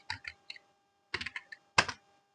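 Key presses on a computer keyboard while a name is typed, a few quick clicks, a pause, then another short burst and a final louder keystroke, close and clear in a quiet room.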